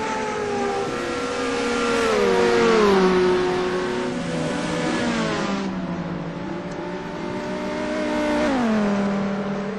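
Race cars in a GRC Trophy circuit race, engines revving and whining as they pass along the track, pitch rising and falling with gear changes, loud and continuous.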